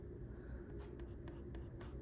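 Colored pencil scratching across paper while sketching a white-breasted nuthatch, a few quick soft strokes close up over a low steady background hum.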